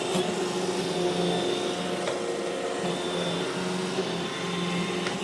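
An iRobot Roomba e5 (e5152) robot vacuum cleaner runs close by with a steady whirring motor drone and brushing hiss, a continuous even level with no talk.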